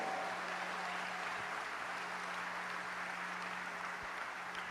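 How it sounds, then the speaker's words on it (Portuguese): Church congregation clapping in praise during a Portuguese-language worship service, a soft, continuous wash of applause heard from a distance with a steady low hum underneath. "aplaude ao nome do Senhor"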